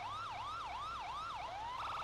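A police siren in GTA V cycles through several quick rising-and-falling yelp sweeps, then shifts into a fast warbling tone, steady and clear with no talk.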